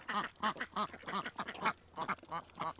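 Runner ducks in several colours quack in a rapid run of loud, close calls, about a dozen nasal quacks in quick irregular bursts with no talk over them.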